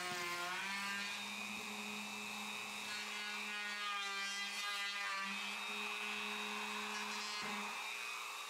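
Router fitted with a round-over bit easing the edges of a wooden mallet handle: a steady, loud motor whine with strong harmonics runs throughout, alone and without a break.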